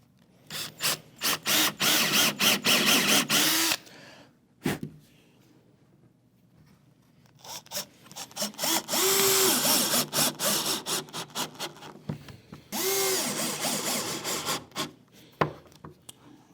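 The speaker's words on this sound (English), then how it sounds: "So now we can pre-drill that top cap and get that installed." Several bursts of a power drill pre-drilling a wooden top cap on a router dado jig, each a loud whining grind lasting a few seconds, with quiet pauses between runs.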